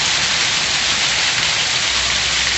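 Heavy January rain pours onto a house roof in the Pernambuco backcountry, a loud, steady, dense hiss of drops with no let-up and no voices.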